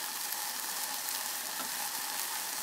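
Fennel seeds and spices sizzle steadily in hot oil, a dense continuous crackling hiss close by with no voices.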